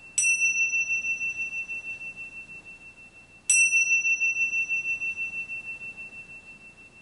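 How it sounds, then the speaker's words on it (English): Two meditation bell strikes about three and a half seconds apart, each a bright metallic ring with a sharp attack and a long, slowly fading shimmer over quiet room tone. "until the sound of the bells"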